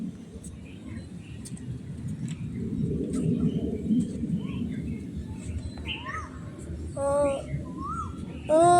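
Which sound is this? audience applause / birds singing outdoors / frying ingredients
birds singing outdoors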